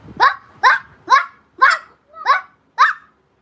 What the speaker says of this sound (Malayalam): പട്ടിയുടെ സൗണ്ട് എടുക്കും